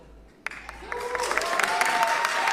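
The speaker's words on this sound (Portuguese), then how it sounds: "Eu estava aí nesse momento das palmas." A crowd bursts into applause that swells from quiet into steady, dense clapping and holds at full strength, with faint voices mixed in beneath it.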